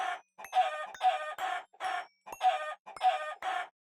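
Chickens in Minecraft Skyblock give a run of short, repeated clucks in quick bursts, about seven or eight calls evenly spaced with brief gaps between them, close and clear with no talking.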